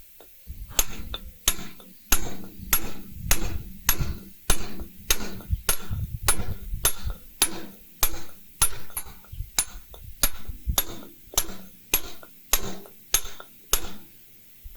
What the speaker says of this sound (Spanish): Voy a comenzar a hacer la tirada de cincel.